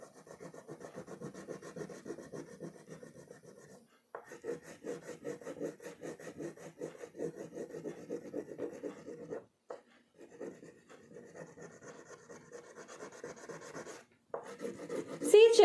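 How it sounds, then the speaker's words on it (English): A crayon rubs across paper in quick repeated back-and-forth scratchy strokes, close and fairly faint, broken by short pauses. "Now we will use a dark green crayon to color the leaf."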